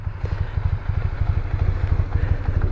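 A Yamaha TMAX 500 scooter engine idles close by, a steady low rhythmic thrum with even pulsing beats and light mechanical clatter, with no voices.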